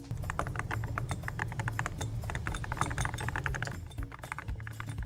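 Rapid, steady keystrokes from a newly assembled mechanical computer keyboard with a textured home row during a typing test, close and continuous with dense clicky taps, no talking.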